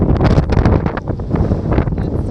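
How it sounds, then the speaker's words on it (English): Strong wind buffets the microphone continuously, a loud, rough low rumble with gusty surges and no voices. "it's super windy now"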